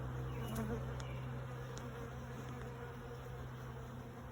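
Honey bees from a start-up colony hive hum in a steady, continuous buzz close by during an open inspection, with faint higher whines from individual bees passing near.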